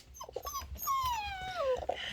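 Lila, a Doodle puppy, whimpers at bedtime in a close, high, wavering whine that slides downward over a couple of seconds, with soft muffled movement underneath and no talking.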